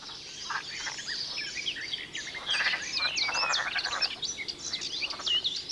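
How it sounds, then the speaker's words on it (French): Green frogs croak and chirp around a pond after hibernation, a dense overlapping chorus of many calls at moderate distance, continuous throughout. "Seules quelques grenouilles vertes viennent en effet de sortir d'hibernation et cherchent à profiter paresseusement de la chaleur du soleil."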